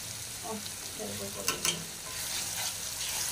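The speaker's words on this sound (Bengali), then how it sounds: "আর আমি এগুলো একটু কষাচ্ছি।" Whole spices and a bay leaf are stirred in hot oil in a pan for a chicken and kakrol curry, giving a steady close sizzle with a few brief scraping stirs partway through and no talking.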